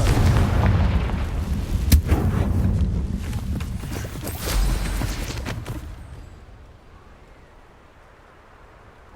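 Confringo fire spell in Hogwarts Legacy bursting in a loud booming blast, followed by crackling rumble that fades to near quiet after a few seconds.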